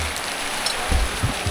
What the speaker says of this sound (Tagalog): medyo malakas ang buhos ng ulan